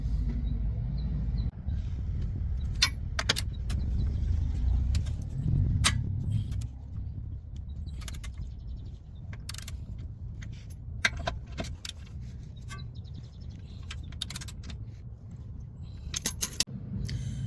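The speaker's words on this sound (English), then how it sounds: "we're going to break it loose with the 21mm socket and then with the 1/2 inch ratchet" A 1/2 inch ratchet with a 21mm socket works a bolt loose on a 2016 Nissan Altima control arm: scattered sharp metallic clicks and clanks over a low steady rumble, close by with no talk.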